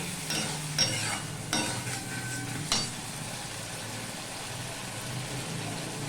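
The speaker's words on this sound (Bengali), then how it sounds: "মশলাটা কষানোর জন্য একটু জল দিয়ে দিলাম দেখো মশলা কষানো হয়ে গেছে কচুর সাথে" Spice paste with cumin powder and a splash of water being stir-fried with taro in a pan for hilsa curry, soft steady sizzling broken by a few sharp scrapes of a spatula early on.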